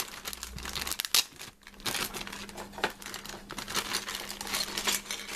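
Someone opens a crinkly plastic package holding a Transformers Kabaya candy toy. Close, busy crumpling and tearing rustles come in quick bursts with brief pauses, and no one speaks.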